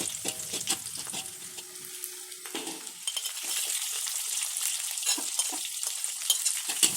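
Onions and shallots sizzle and fry in a pan, with a steady crackling hiss and occasional stirring clinks growing busier as they cook.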